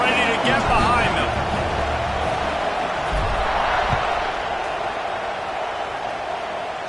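A video game football stadium crowd before kickoff, a broad roar and murmur that holds steady, with a commentator talking over it.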